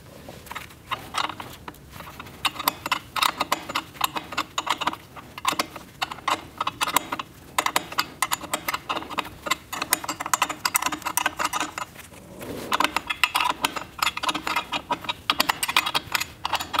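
A 13 mm wrench ratchets in quick bursts while loosening an exhaust hanger on an Audi S6 V10 (4F), dense clicking runs repeating across the whole stretch, close and fairly loud with brief pauses between runs.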